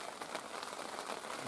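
Rain pattering on a bushcraft camp, a soft, even hiss of drops on surfaces, faint and brief with no voices.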